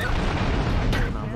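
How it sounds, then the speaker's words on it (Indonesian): A loud, dense blast with a burst of crackling debris, booming and full throughout the short moment, from an explosion in GTA III. "Nah meledak itu."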